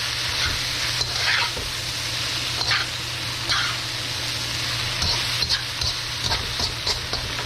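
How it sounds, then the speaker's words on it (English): Vegetable lo mein noodles stir-frying with soy sauce in a hot pan, a constant close sizzle with regular tossing and scraping bursts throughout, no voices. "you cook just basically until that soy sauce is dry"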